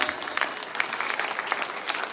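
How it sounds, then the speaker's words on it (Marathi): A kirtan audience at the Shri Vitthal Rukmini temple in Katol claps in a steady, rhythmic unison beat, close and fairly loud, with no one talking over it. "जोरात टाळ्या होऊ द्या."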